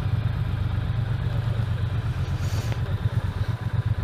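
A Triumph T120 motorcycle engine idles nearby outdoors, a low, fairly quiet, steady putter with slight uneven pulsing and some light mechanical clatter, no talking.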